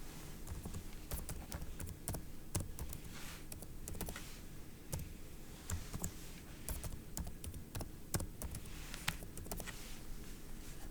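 Steady typing on a computer keyboard, rapid clicking keystrokes in an uneven rhythm, close and clear with no voices.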